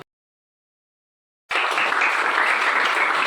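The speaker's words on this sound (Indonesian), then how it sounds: "tepuk tangan dulu." A class applauding for Max: after a second and a half of silence, a burst of many hands clapping together starts abruptly and carries on at a steady, moderately loud level to the end.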